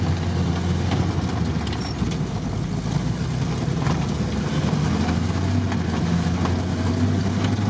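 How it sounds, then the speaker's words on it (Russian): A UAZ off-road vehicle slides sideways across a field, its engine a loud, constant rumble and roar with no break, heard up close from inside the vehicle. "Пошел дрифт опять, боком идем, боком поле"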